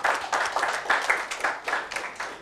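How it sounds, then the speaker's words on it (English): Audience applause at a panel discussion, a steady patter of many hands clapping in a hall, moderately loud and continuous, with no voices over it. "a special round of applause"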